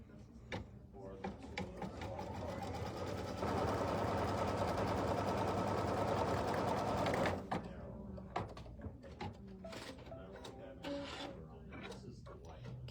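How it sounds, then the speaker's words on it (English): A sewing machine runs steadily while stitching a diagonal line across fabric, a dense mechanical whir that swells louder midway then stops, with a person talking over the machine. "we're going to stitch it down, and it's just going to do a diagonal line"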